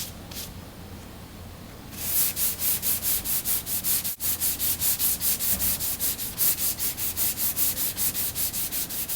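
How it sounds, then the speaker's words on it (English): By hand, a car body panel coated with 3M finishing glaze gets sanded in a close, steady back-and-forth rhythm of raspy strokes, quieter rubbing first, then regular loud passes with a brief pause midway. "Cross sanding, just trying to get it to feather in good."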